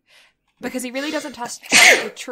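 A single sharp sneeze bursts out partway through, preceded by a person speaking and followed by a short breathy tail.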